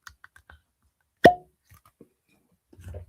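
A whiskey bottle from a distillery founded in 2017, bottled at 48.2% ABV, is opened with a single sharp cork pop. The pop stands alone with faint handling noise before it and low rustling after.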